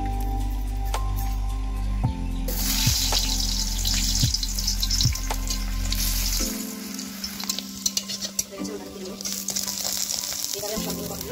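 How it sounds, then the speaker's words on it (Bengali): Papad frying in hot oil, a steady loud sizzle with crackling bursts as four pieces are cooked one after another, alongside occasional stirring and handling sounds close by. "এইভাবে আমি 4টা পাপড়ি ভেজে নেব।"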